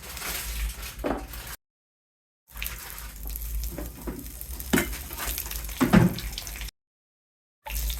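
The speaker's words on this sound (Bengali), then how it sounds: "ওই তেলে ভেজে নিব আলু" New potatoes fry in the oil left from frying fish, a close crackling sizzle with the clatter of stirring, interrupted by two silent gaps.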